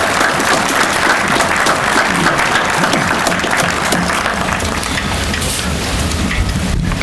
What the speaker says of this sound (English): I'd like a special round of applause for our honor guard.